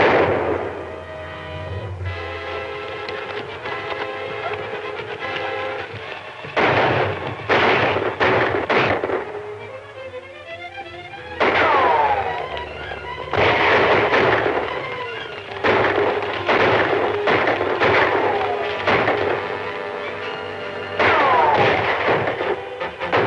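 Gunfire in a cowboy radio drama gunfight, with repeated loud bursts of shots and echoing blasts in clusters across the scene, set over a continuous musical or noisy background.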